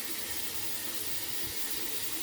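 Water rushes steadily through a building drain during a hydrostatic leak test, rising toward slab level; a continuous, fairly close, even wash of flowing water with a low gurgling rumble and no speech.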